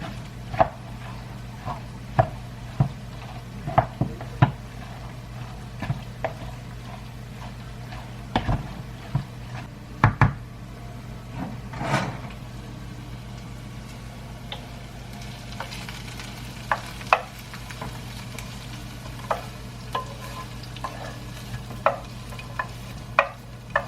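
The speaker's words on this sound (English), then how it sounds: "Then you put your hash browns in. Mix that up a little bit." Hash browns being mixed with sour cream in a bowl, a quiet steady background broken by scattered sharp clicks and taps of the utensil against the dish, close and irregular.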